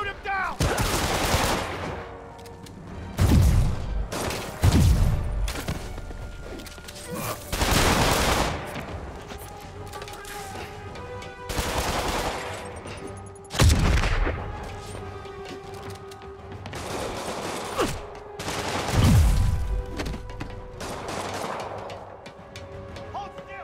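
Enemy gunfire in the Spider-Man video game, with repeated loud bursts of shots and booms spread across the scene and a constant game soundscape beneath. A voice speaks briefly between the volleys.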